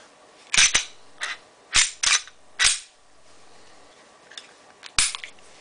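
Several sharp dry-fire clicks and slide racks from a Glock 21 SF pistol, loud and close, in a short irregular series with brief quiet gaps and no talking.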